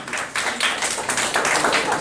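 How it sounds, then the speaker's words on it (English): A classroom of students claps for a classmate, a dense burst of many hands close by, steady and continuous for a couple of seconds. "Give her a clap."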